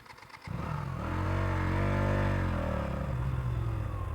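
A motorcycle engine cranks and catches briefly, a loud rough rumble that sputters unevenly as it tries to start, with no talking.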